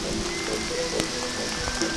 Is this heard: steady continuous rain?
yes